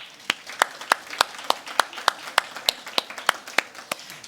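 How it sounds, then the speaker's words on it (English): Sharp, evenly spaced claps ring out roughly three per second at a pitch competition, close and distinct, as for judges, rather than the broad wash of a full crowd. "Let's give our judges a big round of applause."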